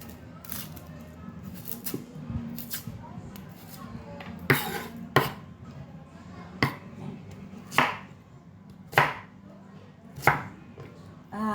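Onions being chopped on a board for home-cooked pangat na isda, a series of distinct knife thuds spaced a second or so apart over a low background hum.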